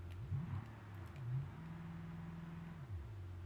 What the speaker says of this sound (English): I'm going to back it up here to reset and fix my tyre